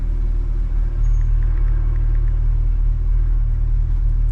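A C8 Corvette in Tampa gives a steady, low engine rumble heard from inside the car, a continuous deep drone with a faint higher whine, with no talk over it.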